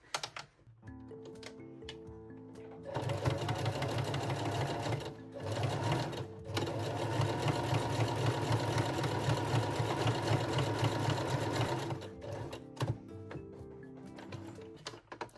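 A sewing machine stitches the side of a bralette closure, running forward, backing up, then running forward again; a steady close mechanical whir with short pauses between bursts, no talk.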